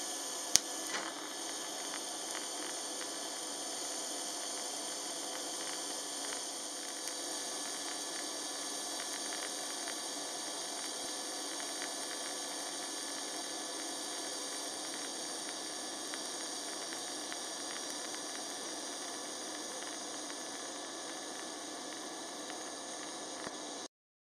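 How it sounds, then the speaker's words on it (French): Steady hissing, crackling arc from TIG lift welding on 3 mm steel sheet, using a Vevor MIG 250 multi-process welder, holds at an even level throughout with no pauses or talk. "c'est du TIG lift et qu'il faut donc faire contact avec le tungsten sur la pièce pour déclencher l'arc"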